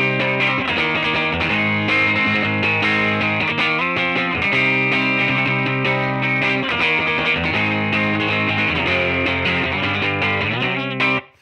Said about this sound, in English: that guitar into the amp sounds like this